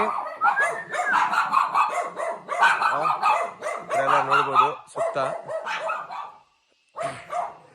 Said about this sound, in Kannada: ಅಲ್ಲೂ ನಾಯಿಗಳು ಎಷ್ಟಿದೆ ನೋಡಿ